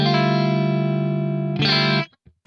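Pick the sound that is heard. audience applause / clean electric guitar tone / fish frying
clean electric guitar tone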